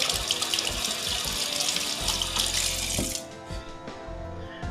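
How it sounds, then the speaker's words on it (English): Kitchen tap water runs steadily into a sink while hands are washed, a close, continuous splashing rush that drops a little in level near the end, with no talking. "Wash your hands again."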